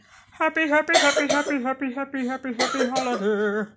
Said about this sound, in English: as you can hear her coughing in the background